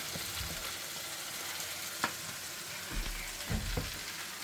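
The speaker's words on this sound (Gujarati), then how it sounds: "અહીંયા મારો સંભાર પણ જો ઉકળે છે" A pot of sambar with drumsticks bubbles on the stove, a steady soft simmering hiss running throughout with a few small pops and clinks near the end, no voices.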